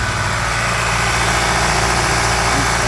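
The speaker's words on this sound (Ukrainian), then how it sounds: "Зараз прогріваємо е, автомобіль, щоб відкрився термостат" A VW Passat B7 with a 1.8 TSI engine idles steadily while warming up, a low, even rumble and faint vibration, continuous and close by, with no voices.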